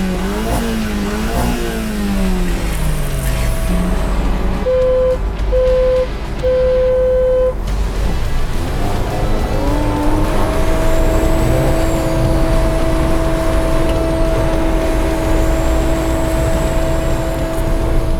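A Sherp amphibious off-road vehicle races, its engine revving hard and climbing through gears, with a brief hooting tone midway and another engine droning alongside as the run continues.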